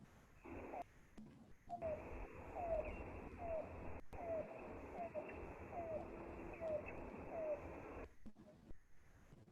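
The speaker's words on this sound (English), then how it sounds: "it's the coo call, and it sounds a lot like some other bird, like a dove" Cuckoo giving its soft, dove-like coo call, a faint, steady series of short evenly spaced notes in a quiet outdoor setting, no voices.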